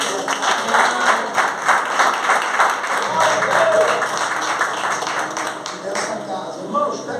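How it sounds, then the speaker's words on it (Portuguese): Church congregation applauding together, a dense, steady wash of clapping from a crowded room that carries evenly throughout. "Você pode aplaudir o nome do Senhor?"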